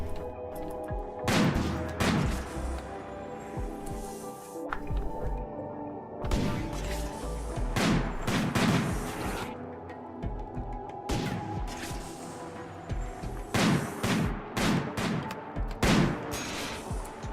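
A minigun fires in RimWorld in repeated rattling bursts of rapid gunfire with sharp cracks, separated by short pauses over about seventeen seconds, loud and close.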